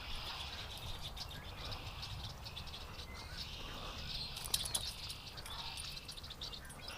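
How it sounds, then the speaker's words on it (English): A flock of blackbirds calling while eating corn on the ground, a faint, continuous wash of distant chirps and chatter with no talk. "It sounds like the blackbirds have found the corn."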